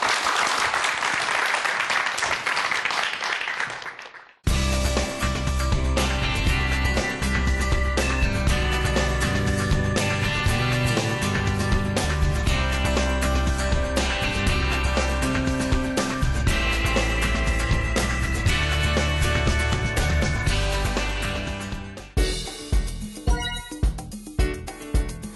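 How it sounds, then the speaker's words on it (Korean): Audience applause greets a lecture on the Crabster seabed-walking underwater robot: a dense, steady burst of clapping for about four seconds, then loud music takes over. "박수로 강연 청해 볼게요."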